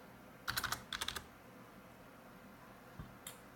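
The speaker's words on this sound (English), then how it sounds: "you wanted to look for anybody called Mills, type in Mills," Keys clatter on a computer keyboard in two quick bursts of tapping, a search being typed into CRM software, followed by a couple of isolated soft clicks in a quiet room.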